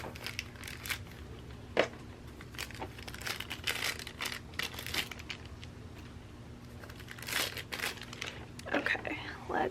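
Plastic wrap crinkles and crackles in close, irregular bursts as it is peeled from the arms and legs of a Hot Toys Captain Rex action figure, with faint whispery handling throughout.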